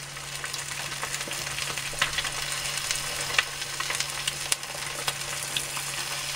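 Spiced egg mixture for an omelette being stirred briskly, a steady close-up hiss with frequent small clicks and taps of the utensil, and a low constant hum beneath.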